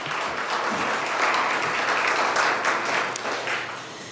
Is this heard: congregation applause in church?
yes